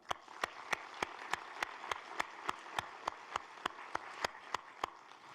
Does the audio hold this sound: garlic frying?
no